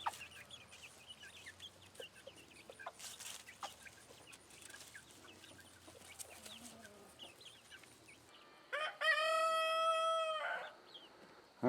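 Chickens cluck quietly in a coop, and then a rooster lets out a loud, clear crow lasting a couple of seconds close by, with no talk over it.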